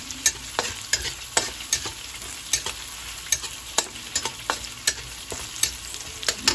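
Tomatoes, onions and garlic sautéing in a pan, a constant sizzle with frequent quick spatula clicks and scrapes in an irregular rhythm, close up, with no voices.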